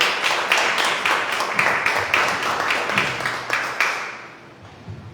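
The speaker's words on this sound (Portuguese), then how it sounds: "Querido, aplauda o Senhor." A church congregation claps in unison, a fairly close, regular beat of sharp claps that carries on for several seconds before stopping abruptly and leaving quiet room tone.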